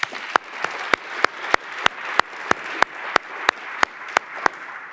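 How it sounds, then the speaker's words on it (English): Applause from a conference audience, heard as a steady patter of many hands with a sharp, evenly spaced clap marking each beat at close range, continuing for about five seconds with no talking. "So round of applause for that office."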